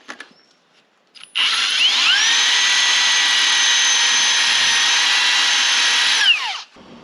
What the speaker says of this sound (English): I just got done drilling out a slightly larger hole